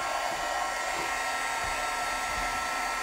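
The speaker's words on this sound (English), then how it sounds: "I'm going to turn on my heat gun so so it gets nice and warm" Wagner heat gun blowing steadily, a loud continuous fan whoosh and motor whine close by, even in level throughout with no voices.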